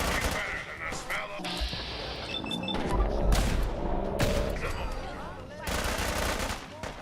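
Rapid automatic gunfire and bursts of shots from the video game Fallout 4, loud and dense with a few heavier impacts, continuing with only brief lulls across the stretch.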